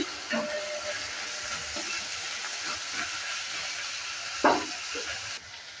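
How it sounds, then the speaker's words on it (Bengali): Onion, garlic and finely chopped tomato frying in a pan while being stirred, with a steady sizzle and scattered scraping clatters, including one louder knock near the end; no speech. "টমেটো কুচিটা দেওয়ার পরও আবারও নেড়েচেড়ে নিচ্ছি।"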